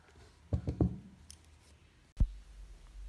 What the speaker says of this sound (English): you're going to cut the yarn here. So chain one and cut that off.